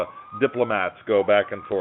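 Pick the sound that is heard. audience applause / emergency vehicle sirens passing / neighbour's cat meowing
emergency vehicle sirens passing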